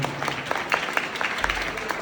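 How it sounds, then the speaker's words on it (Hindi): An outdoor village crowd at a birthday celebration for Dr. B. R. Ambedkar clapping loudly, a brief burst of steady, many-handed applause heard up close. "जोरदार तालियां हो बाबा साहब के नाम"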